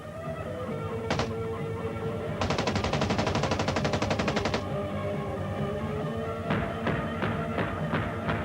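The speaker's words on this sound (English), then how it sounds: "I got to shoot a machine gun" An automatic machine gun fires a single shot, then a long rapid burst lasting about two seconds, then several separate loud shots, all over a steady background rumble.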